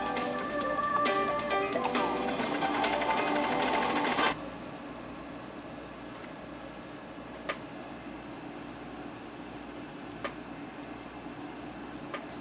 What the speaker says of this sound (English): serge along the fold using rolled hem settings